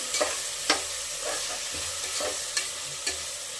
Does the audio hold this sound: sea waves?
no